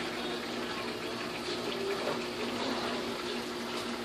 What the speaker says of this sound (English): in the sink, rinse it up a little bit